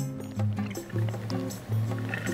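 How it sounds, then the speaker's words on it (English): Ice cubes knock and slosh inside a reusable water bottle as it is shaken in a few rhythmic bursts, close and clear, with liquid sloshing between the rattles. "That's ice."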